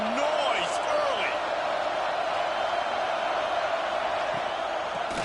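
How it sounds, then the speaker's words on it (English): A college football stadium crowd roars as a steady, dense wall of noise with some whoops rising on top, loud and sustained throughout. "This crowd bringing the energy and noise early"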